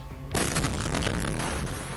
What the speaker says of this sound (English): Opening up with a massive explosion